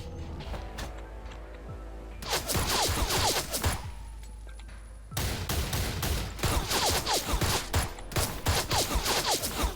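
Rapid automatic gunfire bursts from the shooting video game Black Stigma, dense and punchy, with a short lull and then another sustained volley of shots.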